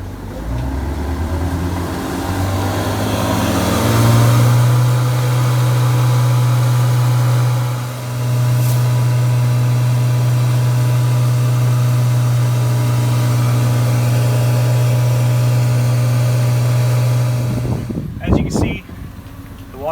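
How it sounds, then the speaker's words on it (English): A truckmount carpet cleaning machine running clear water through its lines during descaling, a loud steady low motor hum that holds for most of the stretch before cutting off near the end into a few clunks. "I'm going to turn the machine on, start running clear water through it."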